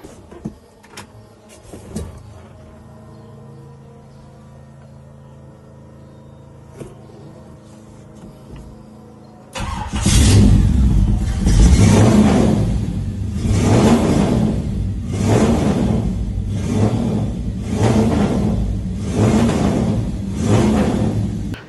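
A 5000 cc V8 car engine cranks once and catches after a quiet stretch of faint clicks and low hum, then roars loudly up close and revs in repeated surging bursts.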